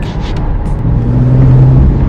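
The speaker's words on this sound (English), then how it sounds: "the exhaust will start screaming and burbling and burping and grunting" A 2018 Porsche 911 Targa engine rumbles and burbles steadily, with a low droning exhaust tone swelling slightly louder toward the end.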